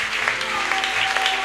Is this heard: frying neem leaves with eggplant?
no